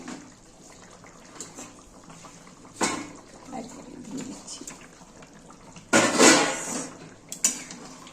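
Fish curry of katla being stirred in a pot, with bubbling liquid and scattered clinks of a spoon against the metal, louder scraping bursts near the end, close by.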